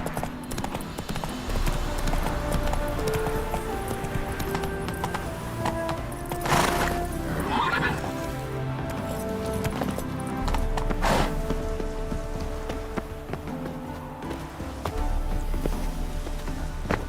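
Roach, Geralt's horse in The Witcher 3, gallops with steady clip-clop hoofbeats under a constant wash of game music and ambience, with a brief whinny partway through.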